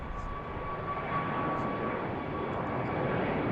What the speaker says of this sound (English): Alright, first close-up takeoff.